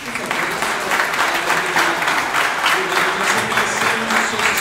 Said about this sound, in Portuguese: Por que não vamos dar um forte aplauso pela vida desses amados,